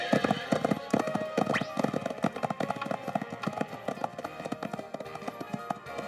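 Steady clip-clop of horse hooves at a brisk pace, fairly close, with shouting voices and general bustle mixed in.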